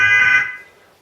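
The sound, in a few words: pre-recorded truck horn looped through a small speaker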